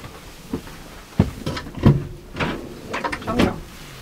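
A very wide kitchen drawer opening in a 2021 Hymer B-Klasse MC I 580 motorhome on a Mercedes-Benz Sprinter base, a run of close sliding thumps and knocks over a few seconds with faint voices nearby.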